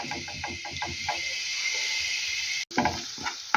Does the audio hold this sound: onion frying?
yes